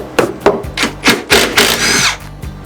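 A power tool whines in repeated short bursts, roughly six loud pulses with brief gaps, as it works bolts off a corroded boat thru-hull, close and alone.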